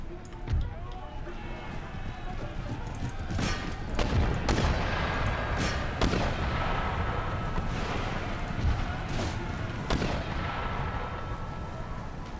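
Mortars and cannon firing in an 18th-century Empire: Total War battle, a rolling series of booming blasts and crackling volleys at irregular intervals over a dense battlefield din, with someone talking throughout.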